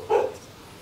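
A single short bark from a five-month-old male rottweiler puppy, close and fairly loud, fading quickly into quiet room tone.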